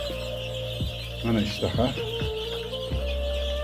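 Three-week-old Leghorn chicks on a small farm peck at feed and chirp in quick high bursts, with clucking mixed in, close by and moderately loud, while someone speaks over them.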